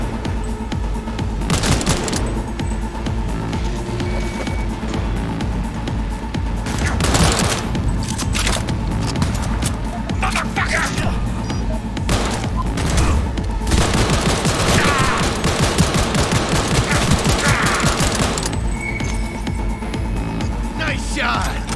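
Gunfire in the video game Cyberpunk 2077: dense, continuous volleys of shots and bursts with booms, loud and sustained throughout.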